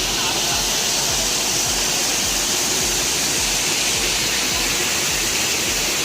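Pochera waterfalls in Adilabad, where several flows join and pour down, produce a loud, dense, unbroken roar of falling water that fills the scene from start to finish, with no voices over it.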